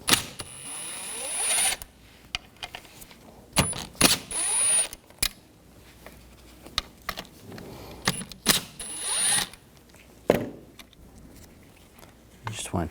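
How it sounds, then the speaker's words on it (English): A T30 socket backs out the screws holding the motor to a rear window regulator from a 2000–2006 BMW X5. Clicks and ratcheting taps come in short bursts between quiet gaps, with sharp metallic knocks and handling noises, close up. "Use a T30 socket, take these screws out."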